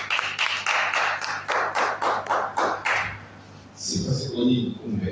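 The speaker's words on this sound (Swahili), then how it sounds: "Tumpigie Bwana Yesu makofi." A church congregation claps for Jesus in steady, rhythmic bursts for a few seconds before a voice starts talking over the hall.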